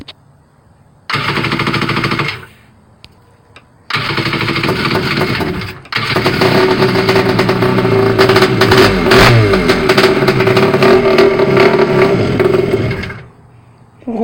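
A rebuilt jet ski engine fires up for the first time in a few loud bursts, then catches and runs steadily with sharp revving before cutting off.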